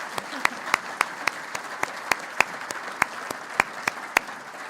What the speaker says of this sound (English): we should give them an applause here.